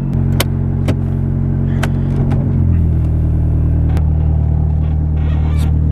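Low, steady rumble of a JDM car engine on the drive to a car meet, heard from inside; the idle-like drone shifts lower partway through as the car pulls away, with a few sharp clicks and knocks.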